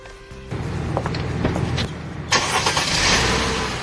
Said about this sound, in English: Brian Popple is taking one of his last rides in his Mercedes.